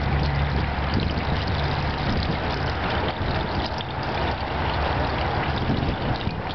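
Water pours steadily onto permeable pavement during a surface infiltration test, a continuous broadband wash with a low rumble, loud and constant throughout with no talk.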